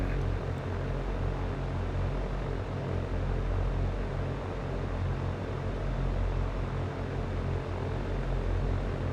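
A Cessna engine in X-Plane 11 drones steadily on the runway, a loud, even propeller hum with broad airy noise running unbroken throughout.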